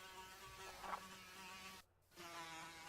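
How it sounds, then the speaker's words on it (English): Insect buzzing from a swarm of flies in Minecraft, a steady droning hum with a brief dropout near the end, heard alone without talk. "way too many flies in this area"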